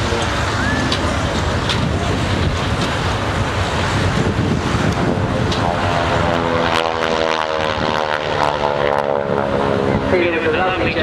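A North American T-6G Texan (Harvard) propeller aircraft flies a display at Shoreham, its loud, rasping radial engine and propeller droning continuously and shifting in pitch as it passes, with speech underneath.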